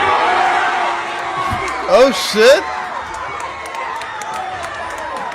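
A rowdy crowd of kids in a movie theater at a Minecraft showing shouts and screams, with a couple of loud whooping outbursts over a steady din of crowd noise.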